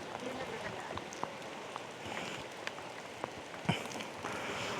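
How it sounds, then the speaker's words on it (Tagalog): Soft, steady rain patter during a motorcycle ride near Gasan Church, with a few louder drops and knocks, faint and continuous throughout. "inabot na naman kami ng ulan"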